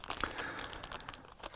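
A tightly packed plastic bag full of small kit parts is crumpled and handled up close, giving a continuous crinkly rustle with sharp crackles and irregular bursts, heard alone.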